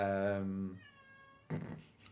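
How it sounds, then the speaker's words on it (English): A cat outside a door screams in drawn-out, wavering yowls: a loud cry that tapers into a thinner wail, then a short burst of muffled noise. "My cat's outside the door screaming."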